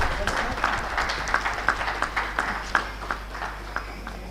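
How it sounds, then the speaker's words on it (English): At a RailTrans Expo 2024 panel event, an indoor audience gives a round of applause, with distinct, fairly sparse claps in an uneven rhythm under a steady low hum and some murmured talk. "Can I please have a big round of applause"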